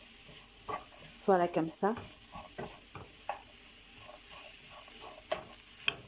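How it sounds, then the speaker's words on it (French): A wooden spoon stirring carrots cooking in a pan, with sizzling and scraping strokes up close while a person speaks briefly. "j'attrape ma cuillère en bois pour pouvoir tourner. Donc, voilà, je me mets à tourner"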